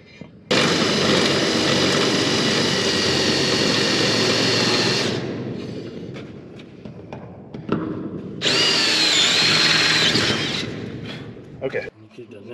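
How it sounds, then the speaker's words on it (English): A loud power drill bores holes in a grain bin, whining steadily for several seconds, stopping, then running again in a second burst, with faint voices in the gap. "Power drilling the holes for the hydraulic hoses to go through."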